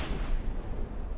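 Small advanced cannons on a battleship fire in the naval combat game From the Depths, a dense, loud, continuous roar of booming blasts that fills the whole second with no speech over it.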